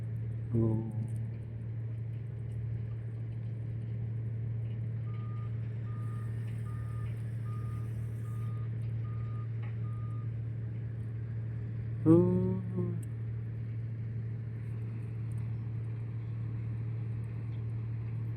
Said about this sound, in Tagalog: Dito naman sa tulay, ayan diyan dumadaan yung mga dump truck na may kargang buhangin.